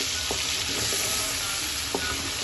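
Whole cumin, cinnamon, green cardamom and black peppercorns fry in hot oil for masaledar biryani, giving a constant close sizzle broken by a few light stirring taps.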